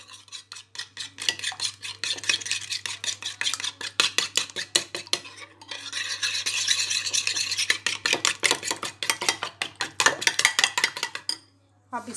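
A utensil briskly stirs and beats eggs with black pepper and onion in a bowl, producing steady rapid clinking and scraping strokes that continue with short pauses.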